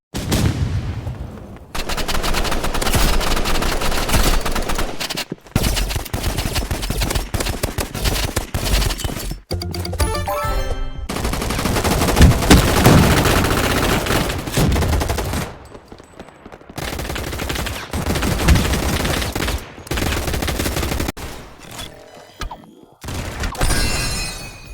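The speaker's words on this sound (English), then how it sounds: "Some of the most popular games on the entire platform are also first-person shooters." Rapid automatic gunfire from Roblox first-person shooter games, loud bursts of machine-gun fire and gunshots filling nearly the whole stretch, broken by short gaps and abrupt cuts between scenes.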